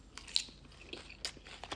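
A crunchy bite into a salad of regular lettuce, walnuts and cheese with balsamic vinaigrette, giving a few close, soft crunching and chewing sounds spread over a couple of seconds.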